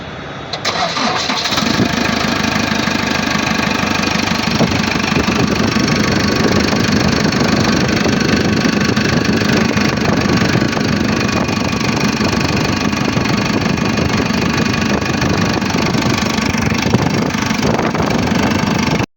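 A JCB backhoe loader's diesel engine catches after cranking and settles into a loud, steady idle with a rhythmic chugging knock, heard up close and alone for the rest of the clip.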